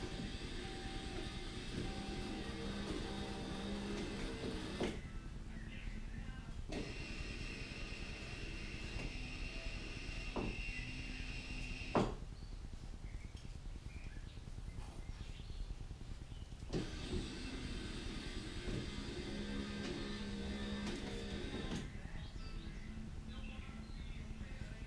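A rebuilt power antenna motor on a 1987 Buick Grand National whirs steadily in several runs of a few seconds each, with quiet pauses between them and a faint click in the middle.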